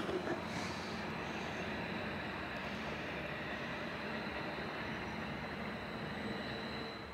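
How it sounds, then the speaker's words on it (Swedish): A steady, broad rumbling roar of a train passing near a motorhome campsite in Wangen im Allgäu, Germany, fills the whole stretch, distant and continuous without clear breaks. "nu kommer det ett tåg här"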